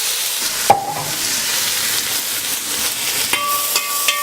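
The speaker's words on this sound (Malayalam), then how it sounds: "അത് കഴിഞ്ഞ് നമ്മൾ കൊച്ചുള്ളി അരിഞ്ഞ് വെച്ചത് എണ്ണയിലേക്ക് ഇടുന്നു." Sliced shallots dropped into hot oil with fennel seeds in a heavy bronze uruli pan for Kerala beef dry roast, giving a steady close sizzle and hiss with a couple of sharp clinks from a utensil on the pan.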